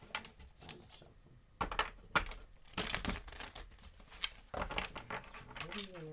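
Tarot cards riffled and shuffled close by in several quick bursts of papery flutter and slapping, with pauses between and a soft voice near the end.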